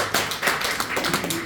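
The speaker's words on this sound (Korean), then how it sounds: "정말 박수 한번 치세요" A church congregation claps together during a Sunday worship service, a dense run of overlapping hand claps that is fairly loud and steady for a brief moment, with no talking over it.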